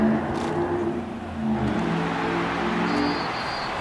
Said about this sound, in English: That car just revved and it was nice.